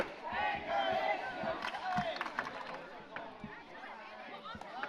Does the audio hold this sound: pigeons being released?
no